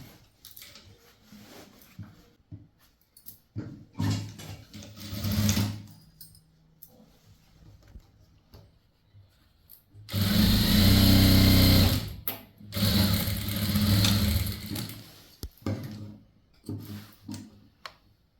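Sewing machine stitching a box pleated skirt for a school uniform, running in short bursts with a loud steady whir around the middle and end, separated by quieter pauses and handling.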